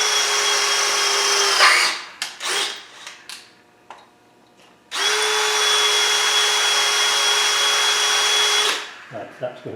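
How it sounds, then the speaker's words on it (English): A power drill whines loudly in two long bursts into a Land Rover 300Tdi engine, with a short pause of clanks and handling noises between them. "I don't think we're going to drill all the way through the engine."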